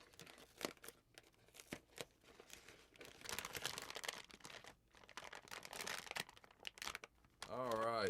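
Gift-wrapped packaging of a Cranborne Brick Lane compressor torn open by hand, with loud bursts of crinkling and ripping paper in uneven spurts, sharp crackles between, ending in a long continuous tear up close.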